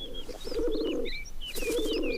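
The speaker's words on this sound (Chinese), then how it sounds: "鸽子" A pigeon coos twice in low, rolling bursts, close and clear, with faint bird chirps in the background.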